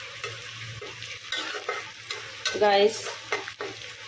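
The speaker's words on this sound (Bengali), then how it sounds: "পেঁয়াজ, মরিচ, তেল, রসুন সুন্দর করে এটাকে বাদামি করে এটাকে আমি বাগার দিব" Onion, chili and garlic frying in oil for tempering, a loud close sizzle with stirring scrapes. A voice briefly speaks over it.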